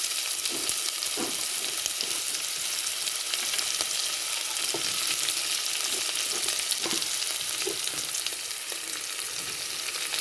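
Green chillies fry in a pan with cumin seeds for an egg curry, giving a steady dense sizzle throughout with soft scraping stirs now and then, close and fairly loud, with no talking.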